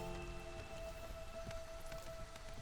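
Light drizzle in the marshlands of a colony-building game, a soft continuous patter of rain with a faint steady tonal hum beneath it.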